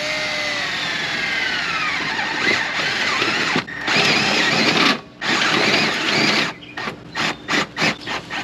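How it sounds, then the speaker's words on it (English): A power drill whines steadily as it bores into a KZ camper, its pitch shifting under load, then finishes with several short stop-start bursts. "And I'm gonna drill a hole right next to that."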